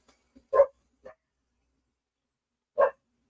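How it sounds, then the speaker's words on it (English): A dog barks in short single woofs, two close together near the start, then a pause before another bark; the sound is fairly near and otherwise quiet, with no talking. "The dogs just keep barking."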